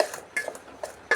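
A metal spoon clinks and scrapes against a pot while soaked, squeezed soya chunks are stirred with spices, giving four short, separate knocks spaced apart in a quiet kitchen.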